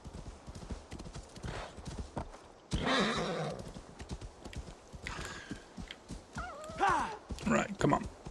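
A horse galloping in the video game Assassin's Creed Valhalla, rapid rhythmic hoofbeats throughout, with a loud whinny and later snorting neighs, while someone talks intermittently over the action.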